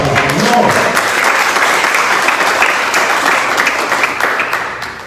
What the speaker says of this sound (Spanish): Vamos a darle palmas para el Señor